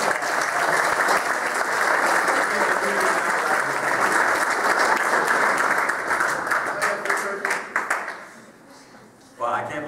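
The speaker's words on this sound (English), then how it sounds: "Oh, yes, big round of applause." Dense, steady applause from the audience at a 2018 Marine Corps JROTC cadet birthday ball in Selma fills the room, then thins into scattered claps and fades out near the end.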